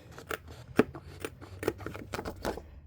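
Close, crisp scissor snips trim the clear overhanging edges of planner stickers, several quick cuts spaced unevenly across a few seconds with no talking.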